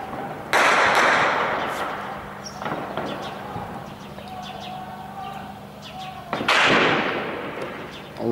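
Loud blasts from shelling strike a neighbourhood on the old Aleppo road in Hama, two heavy bursts bracketing a rumbling stretch, with birds chirping and voices in the background.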